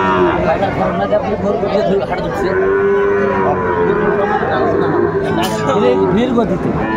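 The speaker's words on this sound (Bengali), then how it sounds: "শাহিওয়ালের ষাঁড় বাচ্চা আমরা দেখছিলাম এখানে।" Sahiwal bull calf at a Cumilla cattle market lowing in long loud moos amid a noisy crowd, with people talking nearby throughout.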